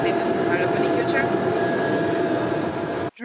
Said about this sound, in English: we are on a private jet going to the University of Davis of California